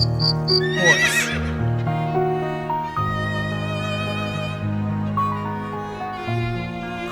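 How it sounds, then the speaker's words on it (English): A horse lets out a loud, drawn-out whinny that rises sharply then trails off, with steady musical tones playing underneath throughout. "Horse."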